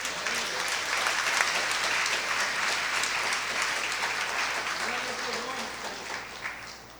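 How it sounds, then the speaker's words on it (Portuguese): A church congregation applauds during a Passion service, a broad wash of steady clapping at moderate distance with faint voices beneath, slowly tapering toward the end. "Você pode aplaudir ao Senhor?"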